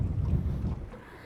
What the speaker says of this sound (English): Not sure you can hear me with the wind